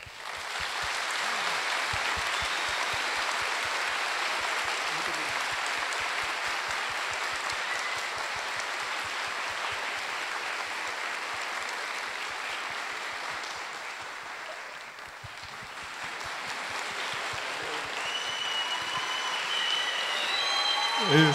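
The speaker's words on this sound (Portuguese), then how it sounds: "eu queria pedir a vocês uma calorosa salva de palmas para eles." A large audience applauds at a university graduation ceremony in Brazil, sustained dense clapping that fills the hall steadily for about twenty seconds, dipping briefly midway before swelling again, with a faint voice near the end.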